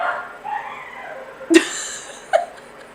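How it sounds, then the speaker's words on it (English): Dogs bark at neighbors indoors, with a couple of short, sharp barks and yips a few seconds apart over a quiet room background. The dogs sound moderately close and no one talks. "I can always tell which dog is doing the thing too, because they have different barking styles."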